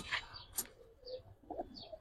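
Giribaz and white high flyer pigeons, faint soft coos and a few brief chirps scattered through a quiet loft, low and distant with no talking.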